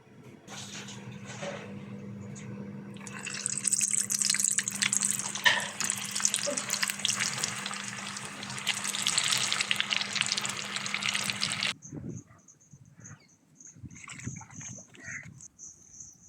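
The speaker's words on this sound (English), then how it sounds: "Here's my potatoes that have steamed, so I'm going to deep fry them." Steamed potatoes hit hot oil for deep frying, giving a loud, steady, broadband sizzle that runs for about twelve seconds and then cuts off abruptly, leaving quieter clinks and handling noises behind.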